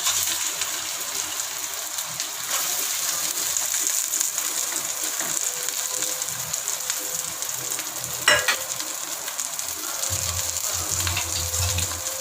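Mashed boiled potato frying in oil in a home kitchen, a steady close crackling hiss that runs without pause, with a few faint clicks and scrapes from stirring.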